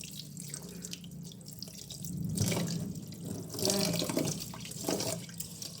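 Tap water runs into a bowl of rice as it is washed under the flow, a close, steady splashing with swells and sloshes as the grains are stirred; a brief word is spoken.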